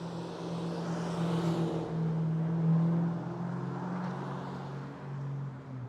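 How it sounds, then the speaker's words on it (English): A car with a loud, worn muffler rumbles past, a droning low engine tone swelling and easing off over several seconds, moderately close, with no talk. "Somebody needs a new muffler."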